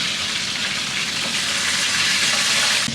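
Rui fish and potatoes fry in a pan with a steady, loud, hissing sizzle that carries on without a break and has no voices over it.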